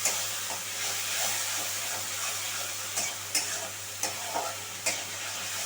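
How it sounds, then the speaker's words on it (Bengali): Ginger and green chilli paste frying in a pan, a soft steady sizzle with a few sharp clinks and scrapes of a spoon stirring against the pan, no voices. "আদাটা খুব ভালো করে আমি ফ্রাই করে নেবো"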